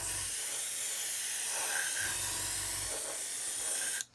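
Paint spray gun spraying steadily with the trigger pulled fully back, a clogging nozzle giving a loud, continuous close-up hiss that runs unbroken for about four seconds before cutting off abruptly.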